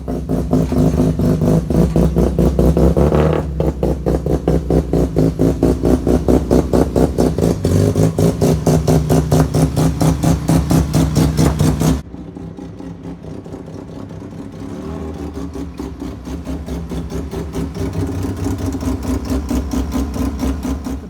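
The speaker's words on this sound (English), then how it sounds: "the exhaust it's still pretty loud, and we don't want to wake up the neighbours" Restored RX 323 car being driven with a loud exhaust, its mid-pitched engine droning and revving steadily through the gears, dropping suddenly partway before building again; close and continuous, no talking.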